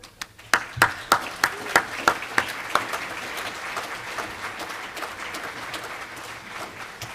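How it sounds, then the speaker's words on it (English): Applause for new arrivals at a reserve personnel directorate town hall: about a dozen distinct claps stand out at first, then merge into a steady, moderately loud wash of clapping from a small crowd that gradually thins out. "Just give everybody a round of applause real quick."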